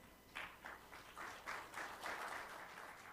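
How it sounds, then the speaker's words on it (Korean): An audience at a formal international conference applauds to welcome a keynote speaker, a steady wash of clapping heard from a distance, rising and falling in waves for a few seconds without talk. "여러분 큰 박수로 맞이해 주시기 바랍니다"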